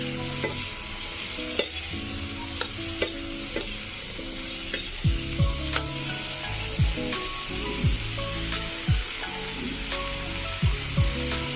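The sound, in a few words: vegetables sizzling in a pan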